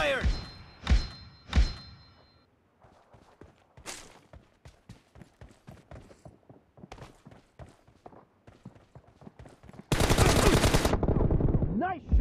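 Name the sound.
gunshots in a mobile shooter video game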